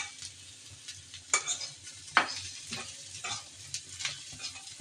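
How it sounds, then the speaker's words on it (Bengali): Fish pieces fry in a pan, giving a soft continuous sizzle up close, punctuated by several crisp spatula scrapes and light clinks against the pan. "এদিকে মাছগুলো ভেজে নিচ্ছি"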